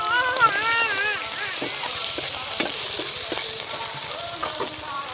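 Gourd leaves and shrimp with dried and green chillies, salt and turmeric fry in a pan. A steady bright sizzle runs throughout, with repeated stirring scrapes and taps, and a brief voice is heard near the start.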